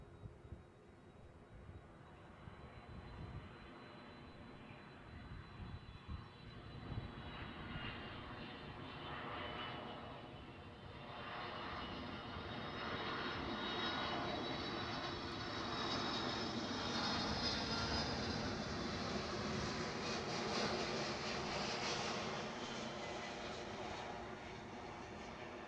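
A passenger jet bound for Boston rolls and takes off at Edinburgh airport, its engines building from a distant rumble into a long, steady, swelling roar that holds loud through the end.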